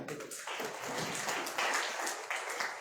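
A crowd applauds at a prize distribution ceremony, steady clapping that stays dense and continuous from start to end, moderately loud with no speech over it.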